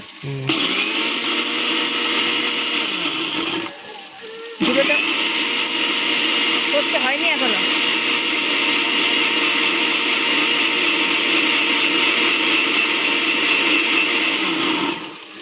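A kitchen mixer grinder whirs loudly and continuously as it grinds mustard seeds with water into a paste, stopping briefly for a second before starting again, close by and running to the end.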